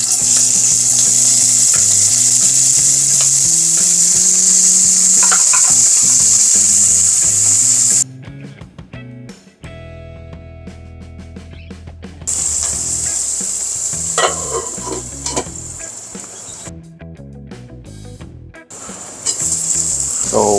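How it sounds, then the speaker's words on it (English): Onion frying in hot oil for pork sinigang produces a loud, bright, continuous sizzle under background music, broken by a couple of short cuts. "So once the oil is hot, we'll put our onion and cook it for a bit."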